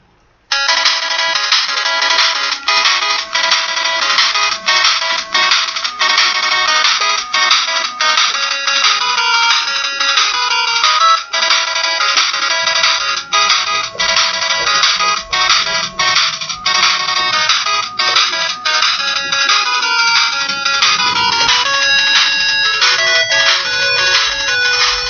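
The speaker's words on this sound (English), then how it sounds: "And yes, it's my ringtone." A bright, electronic chiptune-style Mega Man melody plays loudly and steadily as a ringtone, with fast repeating notes and no voices.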